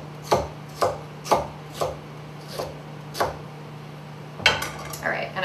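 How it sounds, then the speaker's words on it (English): A knife chops rhubarb into pieces on a board, with about eight sharp, evenly spaced strikes close by and a quicker flurry of cuts at the end. "I just want to cut it into, it doesn't have to be perfect pieces"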